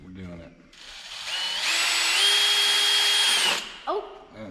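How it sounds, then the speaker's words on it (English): A power drill bores a hole in the plastic body of a 50cc Polaris four-wheeler, a steady whine rising in pitch and holding for about two seconds before stopping, with voices briefly before and after. "we're going to have to drill for some new zip ties"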